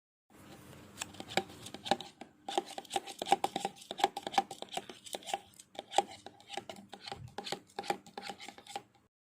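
Egg white mixed with two teaspoons of salt water is stirred in a glass during a protein precipitation test, giving a steady series of close, quick clinks and scrapes that continue throughout without talk.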